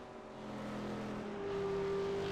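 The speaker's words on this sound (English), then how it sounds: "you can hear that V8 supercar with its enhanced sounds" A V8 supercar engine in the iRacing sim racing game drones at a steady, rising pitch, a continuous distant-sounding motor whine building slightly over a couple of seconds with no talk.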